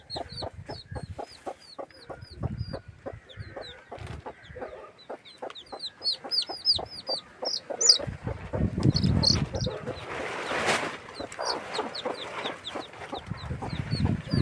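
A hen clucks with her chicks in a steady run of low repeated clucks, while high thin peeping from the chicks layers over them and grows busier and louder in the second half.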